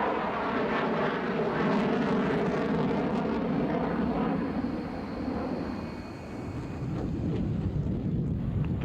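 A McDonnell Douglas F-15 Eagle fighter jet with Pratt & Whitney F100 engines roars past, a loud steady turbine rumble with shifting tones and wind buffeting, easing slightly before building again.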